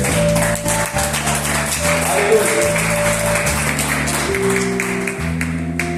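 A church congregation claps under loud sustained music with low bass notes, the patter of hands blending with the band throughout.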